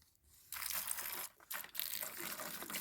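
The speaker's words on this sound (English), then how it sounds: "now we're going to pour in the naphtha" Two liters of naphtha pour into silicone in a container for a DIY tarp coating, heard as a sloshing, gurgling liquid rush that starts abruptly, breaks off briefly, then resumes.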